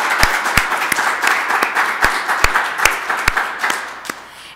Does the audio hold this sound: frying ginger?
no